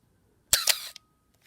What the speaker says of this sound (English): So it sounds kind of funny when you're opening and closing the shutter